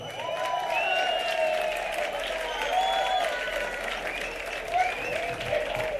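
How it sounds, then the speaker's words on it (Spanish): A live concert audience at Sala El Sol in Madrid applauds steadily and loudly for a band member's introduction, with a few whistles or whoops rising above the sustained clapping. "Un aplauso."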